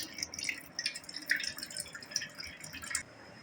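Water drains off cooked lentils in a home kitchen, a faint, quiet sequence of small drips and trickles falling at an irregular pace.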